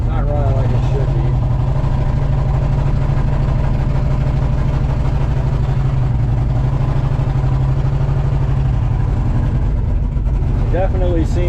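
A turbocharged Chevrolet C10 truck engine idles loud and close with the hood open, running rough and uneven as if missing on some cylinders, a heavy low rumble with a voice speaking over it.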